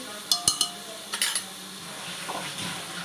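A metal spoon scrapes and clinks against a pan while onions with turmeric and spices are stirred, a few sharp taps followed by softer scraping over a faint sizzle.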